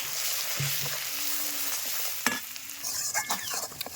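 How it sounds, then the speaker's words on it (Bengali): Ground nut, cumin and ginger pastes with chilli and coriander powders being sautéed in a pan for a pointed gourd and coconut milk curry, with a steady soft sizzle and occasional scraping stirs of a spoon against the pan. "সব মশলা একসঙ্গে দিয়ে কি সুন্দর ভালো করে কষিয়ে নিচ্ছি"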